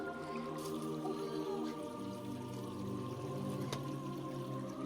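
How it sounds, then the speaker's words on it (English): Water runs down a small mossy waterfall along an Ozark Mountains hiking trail, a steady close rush and pour that never lets up. "There's a little baby waterfall."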